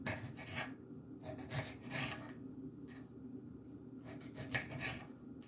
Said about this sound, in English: now we're just going to take them and slice them down into